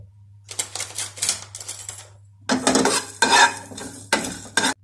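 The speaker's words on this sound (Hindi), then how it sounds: "अब मैं साबुत मसाले पैन में डालने लगी हूँ, हल्के से भून लूँ" Whole spices, fenugreek among them, rattle and scrape as they are dry-roasted in a pan on a home stove. Several close bursts of shaking and stirring come in uneven rhythm over a low steady hum, louder in the second half.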